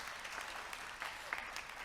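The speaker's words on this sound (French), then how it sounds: "Vous pouvez l'applaudir, s'il vous plaît." Faint, steady applause from a conference audience at a tourism and hospitality investment forum, a thin wash of distant clapping with no distinct peaks throughout.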